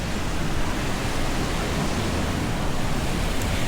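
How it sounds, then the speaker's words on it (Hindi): Seawater rushes beneath a metal grating on a seaside promenade, a steady, loud broadband roar with surf mixed in that holds constant throughout, with no speech. "ये सब जाली के नीचे पानी बह रहा है"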